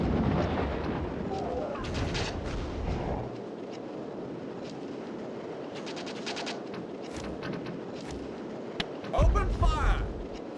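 Video game battle with continuous gunfire and artillery rumbling as dense, loud, unbroken noise, with sharper bursts near the end and voices mixed in throughout.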